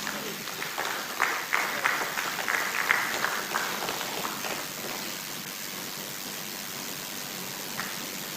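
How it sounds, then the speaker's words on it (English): Applause at an Igbo cultural conference, a crowd clapping in a dense burst that swells over the first few seconds, then thins to a low wash and fades, with a brief spatter near the end. "Can the applause be more louder?"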